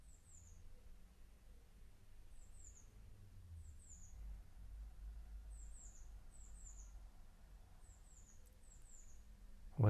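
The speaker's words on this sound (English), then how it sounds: "I can hear the birds singing" Faint birdsong from outside a window repeats in short high bursts over a quiet low rumble, sounding distant as though heard from indoors.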